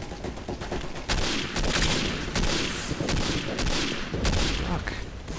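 Rapid gunfire in the World War II shooter game Day of Defeat: Source, loud bursts of automatic fire and repeated shots that keep going with no break.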